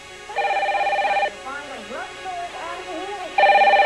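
An unanswered telephone rings in two bursts of electronic trill, loud and steady, with someone speaking between the rings.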